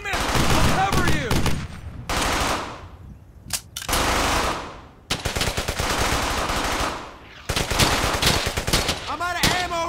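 Sustained bursts of automatic gunfire in Brothers in Arms Hell's Highway, loud and close, rattling in several long volleys separated by brief gaps, with shouted voices mixed in.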